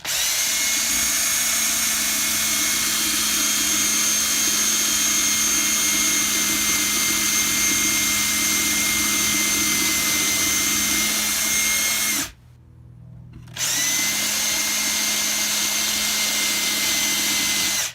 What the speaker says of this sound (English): then I'll take the drill, kind of go at an angle